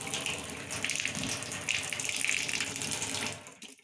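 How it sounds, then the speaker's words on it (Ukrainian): Hot water runs steadily from a household tap into a sink, a continuous close splashing hiss that holds for several seconds before cutting off near the end. "Але якщо включити гарячу воду"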